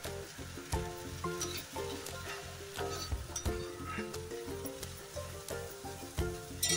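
Onion frying in a pan for a bitter gourd dish, a continuous crackling sizzle with repeated spatula clinks and scrapes against the pan in a regular stirring rhythm.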